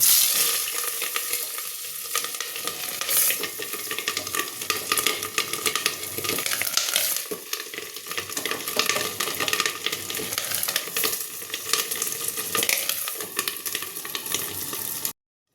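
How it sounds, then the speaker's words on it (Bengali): Rohu fish roe frying in oil in a pan, a continuous close crackling sizzle with busy spattering pops and occasional stirring scrapes, steady and loud throughout with no talking. "দেখো ডিমগুলো আমার সব ভাজা হয়ে গেছে আমি লাল লাল করে ভেজে নিয়েছি"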